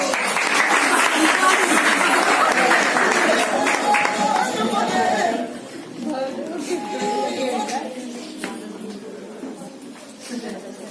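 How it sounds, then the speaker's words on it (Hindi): An audience at a women's empowerment program in Hapur applauds loudly and steadily for about five seconds, then the clapping thins and fades under crowd chatter and a voice talking. "लिए जोरदार तालियां चाहिए।"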